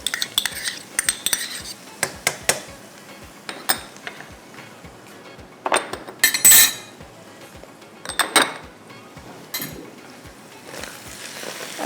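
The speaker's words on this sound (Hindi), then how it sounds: "अच्छे से आपने इसको इस तरह से मिक्स कर देना" A spoon stirs crushed red chillies, cumin, ginger and garlic in a pot, producing a series of sharp metallic clinks and scrapes against the pan, close and fairly loud, separated by quiet gaps.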